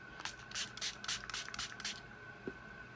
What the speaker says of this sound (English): we're going to use this little Ulta matte setting spray that I got in this little kit